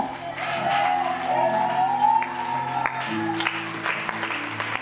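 Church congregation applauding and cheering for the Lord, dense sustained clapping with whoops and voices, loud and close throughout.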